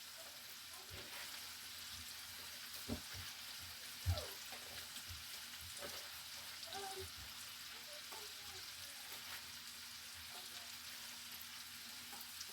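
Sausage browning in a frying pan gives a faint, steady sizzle, broken by a few soft stirring clicks and knocks.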